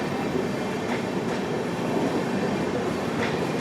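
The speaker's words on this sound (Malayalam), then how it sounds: "വിവേക് എക്സ്പ്രസ് ആണ്. ബാൻഡ്ര ടെർമിനസ് ജമ്മു തവി." The Vivek Express, running from Bandra Terminus to Jammu Tawi, passes close by with a loud, continuous rumble and rhythmic clattering of wheels over rail joints, with no voices.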